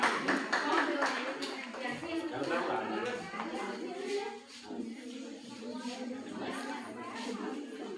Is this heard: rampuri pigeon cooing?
no